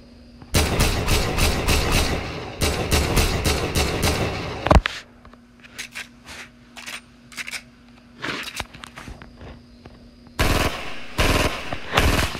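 Rapid automatic gunfire from a video game fires in loud close bursts, pauses for scattered lighter shots and clicks, then resumes in another dense volley.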